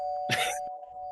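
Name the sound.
doorbell ringing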